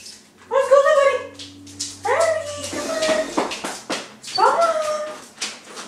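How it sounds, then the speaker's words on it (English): A dog whimpers and howls in a few drawn-out, wavering cries at close range, with pauses between them and a low background hum. "I don't know what's going on with our dog Shadow, but he seems a pretty bummed."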